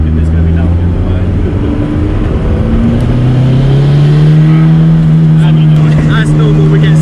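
A 370bhp VTEC turbo Mini accelerating hard down a straight, loud in-car engine drone rising in pitch through the gears with a brief shift step, constant and close.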